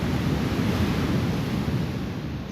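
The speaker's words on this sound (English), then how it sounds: "You can really hear the waves in the background." Ocean waves washing onto Coogee Beach, a steady broad roar of surf with wind noise buffeting the microphone, continuous and fairly loud with no talking.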